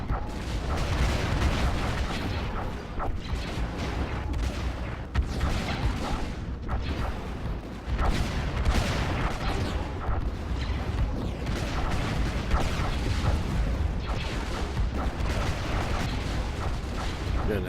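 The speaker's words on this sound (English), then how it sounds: "I see their ship's exploding." Spaceships explode in a Stellaris space battle, a dense, continuous wall of booming blasts and rumbling detonations that stays loud and unbroken throughout.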